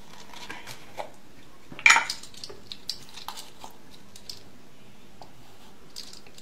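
Carob powder being spooned in for a raw, no-bake banana cake: a metal spoon clinks once against a bowl, followed by soft scattered taps and scrapes, close and quiet, with no talk.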